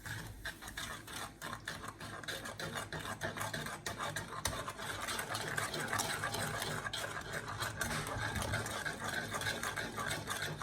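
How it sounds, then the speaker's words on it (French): A spoon stirs sugar and a splash of lemon juice into strawberry purée in a bowl, a steady soft scraping and swishing that continues throughout at low level. "Et je vais bien mélanger."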